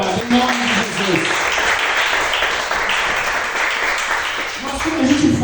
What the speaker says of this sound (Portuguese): Aplauda o Senhor, amado, em nome de Jesus